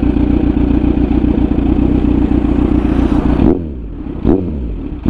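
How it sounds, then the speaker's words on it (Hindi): A superbike's exhaust rumbles loud and close in a sustained deep revving note for several seconds, then drops off sharply before one more brief blip of the throttle. "इसके एग्जॉस्ट नोट सुनाता हूँ आपको एक बार"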